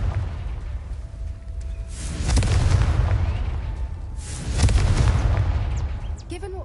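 Two heavy booming explosions from the Confringo fire spell in Hogwarts Legacy, each a deep roaring blast that swells and rumbles out for about two seconds, with quieter game ambience between them.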